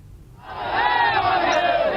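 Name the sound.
crowd chanting slogans at Ram Vilas Paswan's funeral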